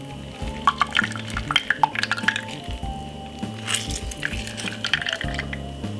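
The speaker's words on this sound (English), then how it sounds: "Then we're gonna squeeze half of a lemon." Half a lemon squeezed by hand for a beetroot juice drink, wet squishing and small drips into the glass at close range, over a steady low background hum, no talking.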